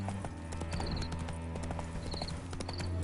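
Horse hooves gallop in The Witcher video game, a steady, rapid clip-clop that runs throughout, with a continuous ambient music bed underneath.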